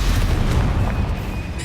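A Bombarda spell blast in the Hogwarts Legacy video game, a dense low rumbling boom that holds steady and loud for its full short length, with no talking.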